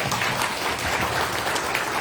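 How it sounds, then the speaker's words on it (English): A crowd at a business roadshow gives a dense, continuous round of applause to welcome guests from India, with steady, even clapping throughout and no talking. "Let's give them a big round of applause"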